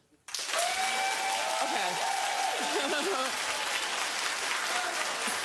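Studio audience at a daytime talk show claps steadily and loudly for several seconds after a brief spoken prompt, with a voice talking over the clapping.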